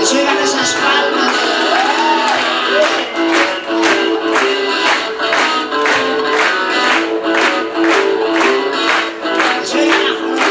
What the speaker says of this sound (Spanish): Que se oigan esas palmas.